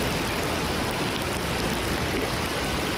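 Heavy downpour in the hills of Tai'an Township, Miaoli County, with muddy floodwater rushing over a road; a dense, loud, steady roar of rain and flowing water, unbroken for the whole stretch with no voices.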